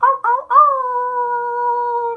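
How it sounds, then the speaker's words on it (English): A long, steady wolf howl rises from a few short opening yips into a sustained clear tone, loud and close with nothing else behind it. "Wolf howl."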